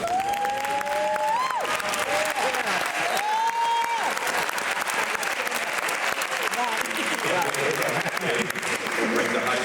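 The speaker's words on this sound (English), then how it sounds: "let's give them all a round of applause." Audience applause for debate team members after a debate: a long, steady round of crowd clapping with scattered cheers, a voice speaking over the opening seconds.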